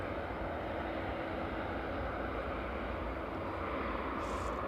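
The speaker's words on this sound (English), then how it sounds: "And 757 usually vacate a little early, a little bit further down the runway." A Boeing 757 airliner rolls along the runway at East Midlands Airport, its engines giving a continuous, even roar that holds steady throughout at a moderate distance.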